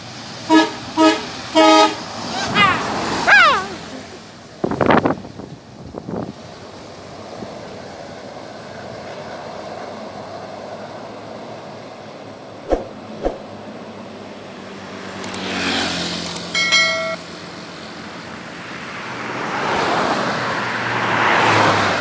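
A bus in Indonesia, a Sempati Star, roars past on a highway with repeated melodic horn toots at the start, then fades into steady road noise before another vehicle rushes by and more honking follows.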